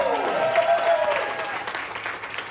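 Guests clap together at a pre-wedding party, a sustained burst of applause with crowd murmur beneath, loud at first and gradually thinning.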